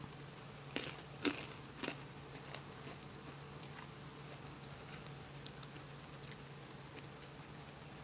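Someone chewing crunchy MRE sesame sticks and corn nuggets, faint close crunches and bites scattered over a quiet background, a few sharper snaps early on.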